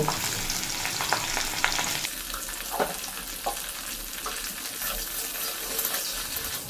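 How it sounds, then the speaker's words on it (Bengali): Pieces of pointed gourd fry in oil with salt, a loud broadband sizzle at first that settles into a softer steady crackle with occasional stirring scrapes. "ওই তেলেই পটলগুলো ভেজে নেব পটলে শুধু লবণ দিয়ে ভেজে নেব"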